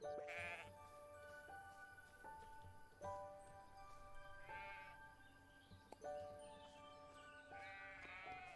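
A sheep bleats several times in the video game Everdream Valley, widely spaced, each cry short and nasal, with soft electronic tones and faint ticking in the background.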